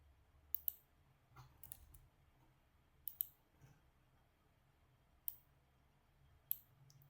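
Sparse keystrokes on a computer keyboard while searching for a DHT sensor library, a few isolated clicks and short clusters spread over several seconds, quiet and close over faint background hum.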